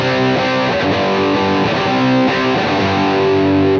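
A heavily distorted electric guitar plays sustained, gritty chords through a UAD Lion '68 amp plugin with an on-axis impulse response, loud and close, ringing out before cutting off at the end.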